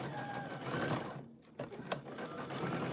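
A sewing machine runs slowly while stitching a flannel scrap quilt. It makes a steady, close mechanical whir that dips briefly partway through and then picks back up.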